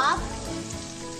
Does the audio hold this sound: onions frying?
yes